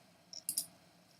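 A computer mouse gives a few quick, faint clicks close to the mic, a short cluster of sharp ticks in an otherwise quiet room, with no talking.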